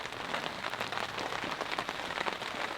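Rain patters steadily on a hot tent at a cold-weather storm camp, a dense, even drumming close overhead.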